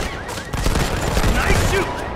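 Gunshots in the mobile shooter Modern Combat 5 on a downtown safe-house map, a rapid fusillade of overlapping shots that swells after a quiet start, with voices mixed in.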